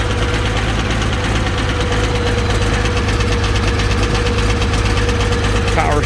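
A 1966 Farmall 706 tractor at a farm auction idles with a loud, close, steady low rumble and even rhythmic knock, while people talk nearby.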